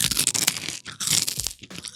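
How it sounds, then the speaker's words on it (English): A single potato chip bitten with a loud, close crunch, two bursts of crackling and brittle breaking over about two seconds, with no talk. "Now that is a good crunch."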